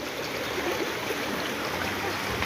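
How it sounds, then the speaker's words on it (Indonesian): Water flowing down a mountain stream makes a continuous rushing, gurgling wash that stays close and even throughout, with no talk. "Iki delok air mengalir."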